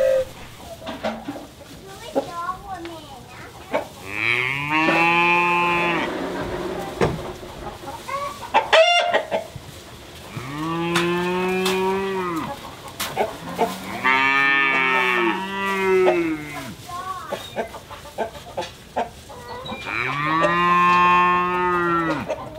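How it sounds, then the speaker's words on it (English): Dairy calves on a farm bellow loudly in several long, drawn-out moos one after another, with chickens clucking faintly in the background and a person talking between calls. "We're gonna have some noisy calves yelling at us this whole video."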